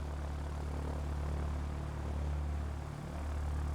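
Steady propeller aircraft engine drone in the Ground of Aces video game, a continuous loud hum with a slight pitch dip near the end, heard alone without talk.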